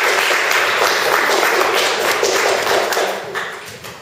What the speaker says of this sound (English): We'll have another round of applause for them both